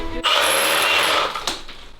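An SDS drill hammers into concrete and granite during an old house renovation, a loud harsh rattling burst lasting about a second before cutting off, then a quieter tail.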